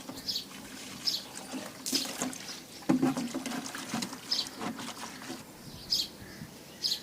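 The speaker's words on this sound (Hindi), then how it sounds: "तो बाकी की बाल्टियाँ रह गई हैं, वो भी मैंने बोला चलो भर लेती हूँ।" Water pouring into buckets in a village yard, a steady trickling splash with faint birdsong around, no one speaking.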